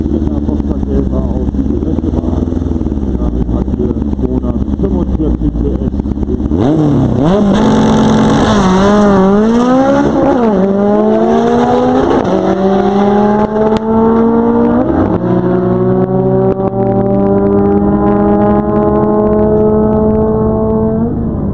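A VW Beetle makes a drag-strip run at Zerbst, its engine revving hard through several rising pulls with gear changes between them. Loud and close throughout, with no talk.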